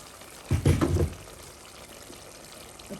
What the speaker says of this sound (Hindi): अब इसके अंदर जो मैंने आधा कप दूध डाल के पालक ग्राइंड की वो डाल देते हैं